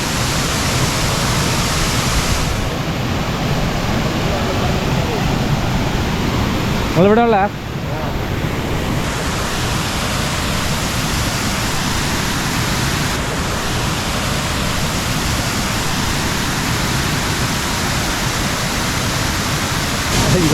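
Water plunges through several gaps in a rocky waterfall in Kerala, producing a loud, unbroken roar that fills the whole scene. A voice speaks briefly over the rushing water.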